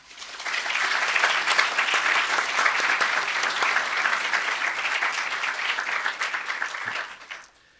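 Audience applause welcoming panelists at a discussion on immigration, populism and the European Union: sustained, dense clapping from a sizeable crowd, steady for about seven seconds before tapering off quickly near the end.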